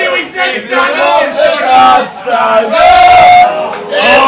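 A darts crowd loudly chants and sings for Scotty Menzies, 'Scotty the Ghost Pepper', during a match against Craig Caldwell. The tuneful, surging voices rise and fall close by, swelling in waves.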